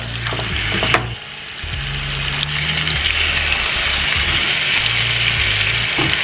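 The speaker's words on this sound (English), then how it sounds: "I'm gonna fry them up on every side, you guys" Short ribs fry in a pan with a loud, steady sizzle and crackle, close up, while a low droning hum rises and falls beneath it; nobody speaks.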